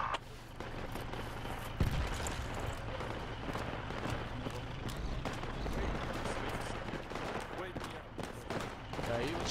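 Mortar rounds and other heavy fire in a military video game form a dense, continuous barrage of booms and bursts that rumbles steadily without pause.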